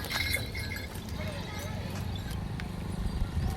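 Pair of bullocks walking on open ground at a cattle fair, hooves clopping in a steady rhythm close by under a busy background of crowd noise and people talking.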